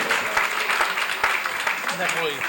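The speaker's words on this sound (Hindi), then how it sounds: "एक बार जोरदार तालियां सभी की।" Audience applause at a Jain temple gathering for Kshamavani, a steady mass of clapping filling the space with voices mixed in.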